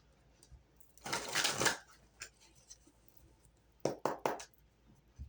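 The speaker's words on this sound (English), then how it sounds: "One more shuffle." Rider-Waite tarot cards being shuffled by hand: a long riffling burst followed by a few soft taps, then a quick series of three or four crisp shuffles near the end, close and clear with no talking.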